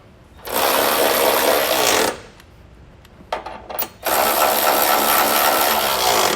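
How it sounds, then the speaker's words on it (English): A ratchet with a 20mm socket snugs up the mounting bolts of a Curt Class III trailer hitch on a 2024 Lexus RX, with two long runs of rapid, loud clicking separated by a pause with a few brief clicks. "we'll go ahead and take a 20mm socket and a ratchet and get those snugged up"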